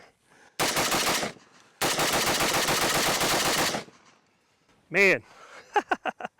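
An M90 rifle fed from a Bulgarian RPK magazine fires rapid automatic bursts, two long loud strings of closely spaced shots, then a voice exclaims afterward.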